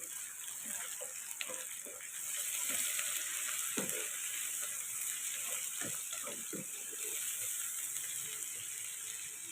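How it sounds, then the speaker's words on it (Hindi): Steady sizzling of garlic ginger paste and chopped green chilies frying in hot oil, with occasional clinks and scrapes of stirring close by, no voices. "2 मिनट के लिए लहसुन को भी फ्राई कर लेंगे"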